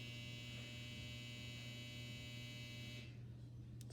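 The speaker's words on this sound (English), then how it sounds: "Sorry, that's my washing machine." A household washing machine runs in the background as a steady, loud mechanical hum with no talking, cutting off sharply near the end.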